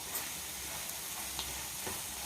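Prawn curry masala with green chillies and garam masala sizzles steadily in a pan, a soft continuous frying hiss with occasional faint stirring scrapes, close and fairly quiet, with no talking.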